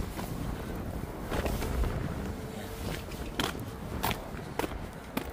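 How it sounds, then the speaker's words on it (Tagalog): Wind rushing and rumbling against the microphone, with scattered sharp clicks and knocks from nearby movement. "Lakas ng hangin mga kaberks."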